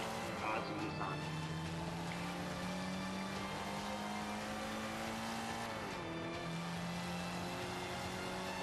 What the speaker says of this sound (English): This car sounds pretty sexy though.